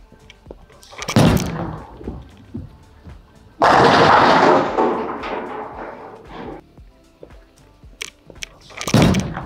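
A bowling ball rolling down the lane and striking the pins: a low rolling rumble building to a loud, crashing clatter of pins, followed by quieter knocks and scattered impacts nearby.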